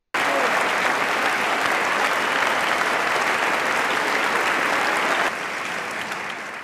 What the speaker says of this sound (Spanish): Los legisladores se levantaron y estallaron en un gran aplauso.